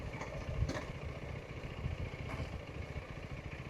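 A KTM Duke 390 motorcycle idles in neutral, its engine giving a steady, quiet low rumble with faint clatter and no talk over it.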